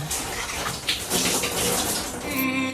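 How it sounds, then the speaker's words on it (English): Shower water runs in a steady, hissing spray with splashing flutters, fairly loud and close, used as a short radio segment effect, ending with a brief tonal sound. "Shower thoughts with Ben."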